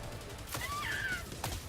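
Two sharp gunshot-like bursts in a video game, about a second apart, loud and close, with a few thin chirping tones between them and no speech.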